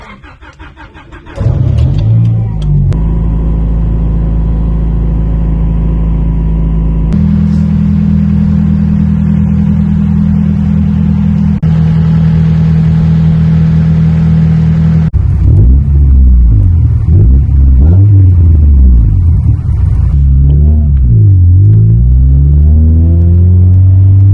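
A Honda Prelude's engine starts, idles with a loud steady drone, then revs repeatedly while driving, the pitch rising and falling through gears, heard close from the cabin.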